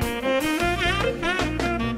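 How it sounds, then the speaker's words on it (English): A breezy jazz funk rhythm section plays with a melodic soloist on top, rendered as Band-in-a-Box RealTracks, bright and continuous in a short snippet. "including this breezy jazz funk rhythm section and soloist."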